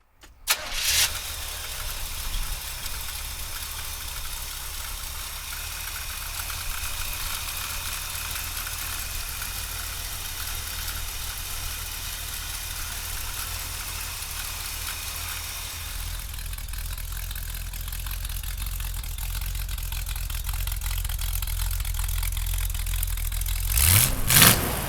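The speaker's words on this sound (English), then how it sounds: "So come on up now and we'll fire it up." A 1977 Chevrolet Corvette engine cranks and catches, then settles into a steady, close idle that runs on for about twenty seconds, with a deeper rumble toward the end and a brief clatter as it finishes.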